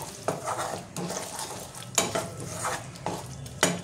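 A spoon scrapes through a spice mixture with whipped sour yogurt being fried in a pan for cauliflower rezala, making rhythmic scraping strokes about once a second over a soft, low sizzle.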